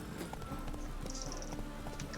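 Hooves of a horse in The Witcher 3 clip-clop in a quick running rhythm through rain, a steady rushing patter filling the background.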